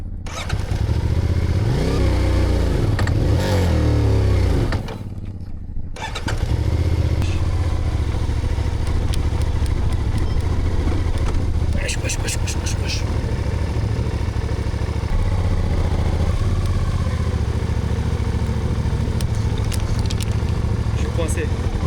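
A motorcycle on a ride across Morocco, its engine droning loudly and steadily, dropping out briefly near five seconds before resuming, with wind rumble and a voice heard alongside.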